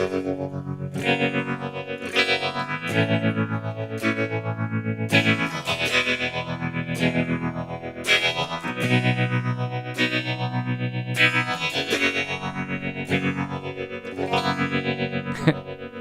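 Electric guitar chords swirling through a sweeping phaser with spacey echo, the tone whooshing up and down in repeating waves, loud and alone.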